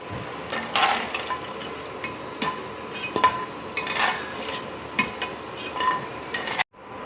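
Fried vegetables are scooped from a hot pan of oil, with soft sizzling under repeated metallic scrapes and clinks of a spatula against the pan, ending abruptly.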